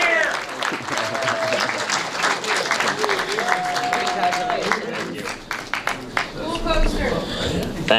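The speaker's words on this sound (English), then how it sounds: "He's coming, keep clapping" Continuous crowd applause at a film festival award ceremony as a Best Dramatic Feature winner walks up, steady and full for the whole stretch, with cheers and a voice or two heard through the clapping.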